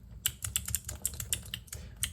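Computer keyboard keys are pressed in a quick, irregular run of crisp clicks and taps, close up, about a dozen strokes over two seconds with no talk.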